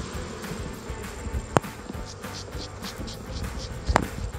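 Apis mellifera honey bees buzzing around a hive in Jambi during a honey harvest, a steady close insect hum with a couple of sharp knocks.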